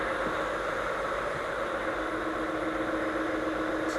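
A ship's turbocharged marine engine runs hot, giving a continuous, loud mechanical drone with a steady hum and broadband roar that holds constant throughout.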